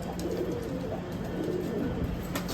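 A male pigeon coos softly and steadily nearby, a low continuous throaty murmur with no talk over it.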